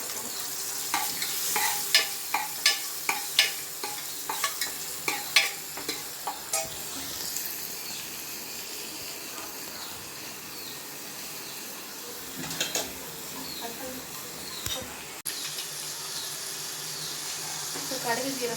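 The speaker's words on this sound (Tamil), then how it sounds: "இப்போ கடுகு ஜீரகம் பொரிச்சிச்சு." Mustard seeds and cumin spluttering in hot oil in a pan while cooking sirukeerai kootu, with rapid crackling pops early that settle into a softer steady sizzle, plus occasional clinks and a voice at times.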